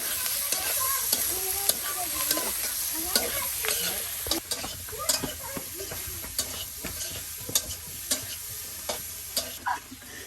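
Boiled taro being stirred and fried in a pan during traditional cooking in the Garo hills: a steady sizzle with repeated scraping knocks of the stirring utensil, close and fairly loud, with no voices.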